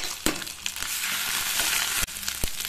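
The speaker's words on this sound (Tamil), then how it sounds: "இப்போ நான் இதுலேயே வந்து இஞ்சி பூண்டு பேஸ்ட் போட்டுக்கிறேங்க" Ginger garlic paste frying in oil for ladies finger rice, a loud dense hiss that rises sharply as the paste hits the pan, then cuts off abruptly, with a few utensil knocks and no talking.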